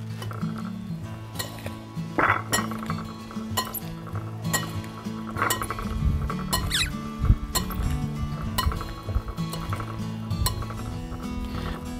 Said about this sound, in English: And then you're just gonna toss it together.